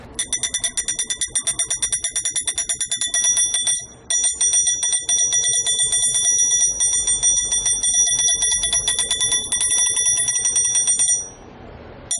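Homemade battery-powered electric bell rattling against a large container, a loud continuous metallic ringing buzz with steady rapid strikes, briefly pausing once before resuming and then cutting off near the end.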